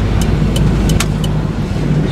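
A car drives along a road with steady low tyre and engine rumble inside the cabin, a few brief higher clicks or ticks over the constant road noise as a Honda cuts in ahead.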